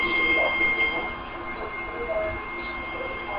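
A passenger train in Microsoft Train Simulator on the Poprad–Košice line pulling into a platform: a steady rolling rumble with faint metallic squeals and hiss, continuous and fairly loud throughout.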